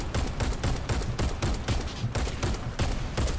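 Rapid automatic fire from a Cobalt Kinetics rifle in the shooter game Warface, a dense unbroken burst of loud evenly spaced shots filling the whole moment, no voices.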